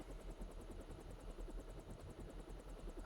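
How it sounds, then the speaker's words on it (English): Continuous chopping rotor beat of a helicopter in the PC game Deus Ex: GOTY, fast and even, with a faint high-pitched whine riding over a low rumble. "Why it sounds like a helicopter in here"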